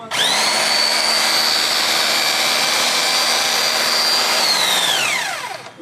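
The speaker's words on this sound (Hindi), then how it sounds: "आप देखिए, अभी ये चल रहा है हैमर।" An INGCO RGH6528 650 W rotary hammer drill runs in hammer mode, giving a loud, steady high-pitched whine with a buzzing hammering texture for about five seconds before spinning down as the trigger is released.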